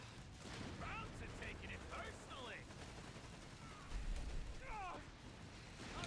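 A grenade bursts with a deep low thump amid steady gunfire and battle noise in the Company of Heroes 3 war strategy game, while voices talk over the action.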